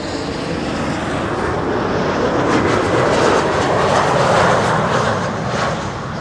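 An Embraer regional jet lands at Schiphol on the Kaagbaan runway. Its broad engine rumble swells and lingers steadily, loud and close, with no voices.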